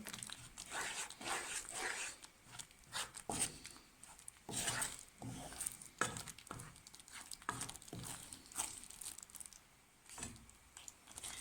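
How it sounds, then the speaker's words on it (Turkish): Semolina halva with vanilla is stirred in a pot: irregular bursts of spoon scraping and knocking, fairly quiet and close, with no speech. "Karıştıralım."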